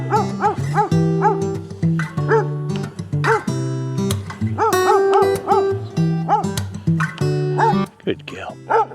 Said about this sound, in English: That dog you can hear is Chloe.